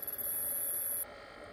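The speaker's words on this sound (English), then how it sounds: "that noise you hear is because it's not pulsing at the right frequency" Whine from the high-voltage circuit of a Vectrex game console, its 555 timer pulsing too fast: a steady, piercing high-pitched tone over faint hum that cuts off abruptly partway through, leaving only low background noise.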